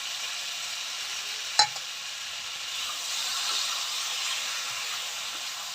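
Melon seed and poppy seed paste with a little cashew frying in a pan for a posto dish, a steady soft sizzle and hiss with one sharp clink of the spoon early on, continuing alone without talk.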